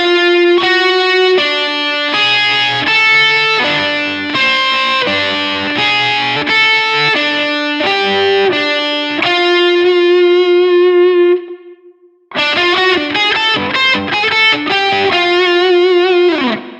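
A distorted electric guitar plays a lick slowly, with separate picked notes and a long held note that rings out, a short gap, then the phrase played again, loud and alone.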